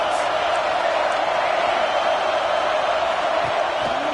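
A football stadium crowd roars as the offense lines up, a dense, constant wall of noise heard from a distance with no break.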